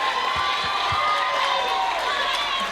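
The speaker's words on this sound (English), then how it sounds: "So a round of applause for our teachers." An audience at a fifth grade promotion ceremony applauds and cheers for the teachers, a steady wash of clapping and crowd noise with a few scattered shouts throughout.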